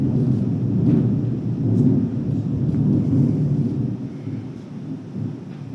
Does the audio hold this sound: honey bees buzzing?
no